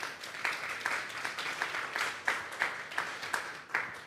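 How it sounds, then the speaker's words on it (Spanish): Church congregation applauding during an afternoon service, a steady patter of many hands with rhythmic swells, fairly distant and moderate in level. "Denle un fuerte aplauso pues al Señor esta tarde"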